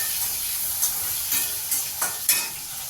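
Onions sauté in a pan for pirandai kulambu, a constant hissing sizzle punctuated by several rhythmic scraping stirs of a spatula, up close and without speech.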